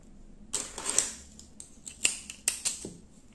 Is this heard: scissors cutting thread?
yes